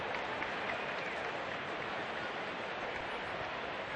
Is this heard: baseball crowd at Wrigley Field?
yes